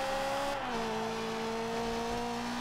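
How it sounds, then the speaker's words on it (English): Ferrari engine in the racing video game Forza Horizon 2, a steady loud high-revving drone with a slight pitch drop as it shifts, continuous and close with no talk. "Listen to the engine through here."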